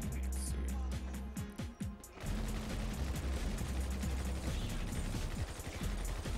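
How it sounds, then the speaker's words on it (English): Video game gunfire crackles in dense, continuous bursts with mechanical clatter, loud and close throughout, thinning briefly before resuming heavily after about two seconds. "they started shooting at me"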